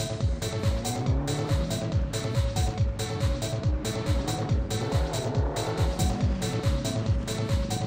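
A Toniq R sports car drives past with a loud, steady, rough engine drone and rhythmic pulsing, sitting close and continuous throughout.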